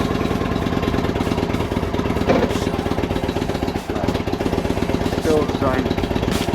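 Indian Roadmaster motorcycle engine idling just after starting, a loud, steady, even throb with a brief dip midway, as someone talks over it.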